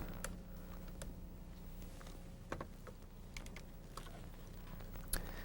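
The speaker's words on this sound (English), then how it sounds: "snap the first connector into place." An IBM ThinkPad 600 keyboard connector snaps into place on the laptop, a few faint, sharp plastic clicks spread over a quiet, steady hum.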